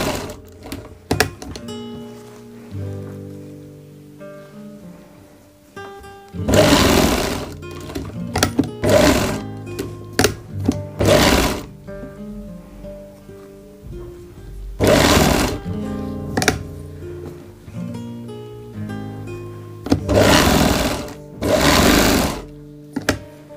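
Sewing machine running basting stitches along a kurti neckline, several loud rapid whirring bursts of a few seconds each separated by pauses, with faint handling sounds and background music between runs.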